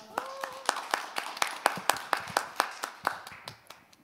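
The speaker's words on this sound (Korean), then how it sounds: "박수로 환영해 주세요." A small audience at a youth forum claps to welcome a speaker, with distinct, individual hand claps in a loose, uneven rhythm. The claps are moderately close and thin out toward the end, and a brief voice is heard at the start.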